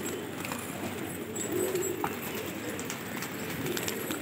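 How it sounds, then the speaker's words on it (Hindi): A low murmur of cooing pigeons fills the scene continuously, with a soft rustling backdrop and one brief sharper chirp. "माशाल्लाह से कबूतर देखें आप,"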